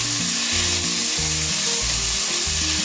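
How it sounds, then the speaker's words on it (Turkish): Lamb tail fat sizzles and fries steadily in a hot pan, a dense continuous crackle heard up close with no voices. "Bakın hemen iç yağımızı kavurmaya başladı."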